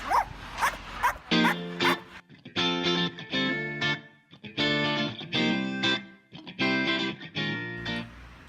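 Dog barking in a rapid series of about a dozen loud, distorted, effects-processed barks grouped in short rhythmic bursts with brief gaps between them.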